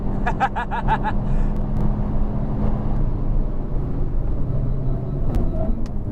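Honda Civic Type R FK8 engine revving inside the car, with sharp ticking bursts of flat-shift gear changes in the first second, then a steady loud drone and rumble of road and cabin noise.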